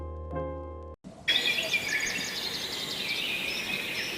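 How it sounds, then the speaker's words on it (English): Birds chirp in lush greenery in Marrakech, Morocco, with a short tonal sound at the start and then a dense, continuous wash of high, bright calls that carries on to the end. "Birds chirping, lush greenery."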